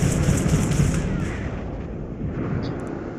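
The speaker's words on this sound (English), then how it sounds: "The turrets will clear out anyone that's trying to pursue." Ship turrets in Starfield firing at pursuing enemy ships, heavy booming volleys rumbling loudly at first, then tapering into a fading, rolling low roar.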